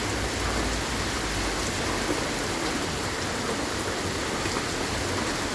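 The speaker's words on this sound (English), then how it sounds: "And the rain is really coming down." Heavy rain falls outdoors in a steady, dense hiss, constant and fairly close, with no voices.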